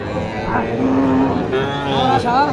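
A young bull calf lets out a drawn-out moo amid a busy cattle market bustle, with a second rising call near the end.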